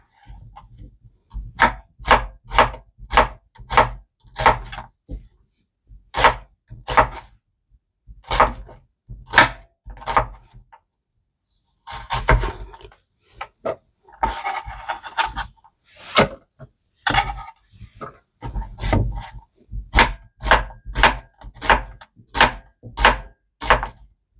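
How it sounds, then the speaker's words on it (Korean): A knife chops a small onion finely on a cutting board in quick, even bursts of sharp knocks. Short pauses separate the runs, and a scraping, rustling stretch falls midway. "먼저 양파 작은 거 하나 종종 썰어 주시면 돼요."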